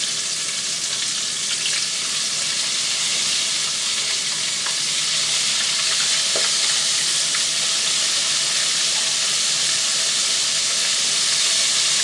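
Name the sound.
oysters frying in a deep fryer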